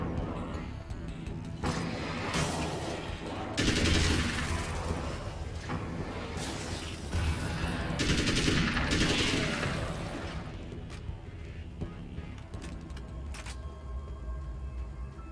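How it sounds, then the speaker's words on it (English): A newly acquired gun fires in the video game Alan Wake's American Nightmare, with repeated shots in dense bursts over game music and effects, loud and close. "Let's try out our new gun."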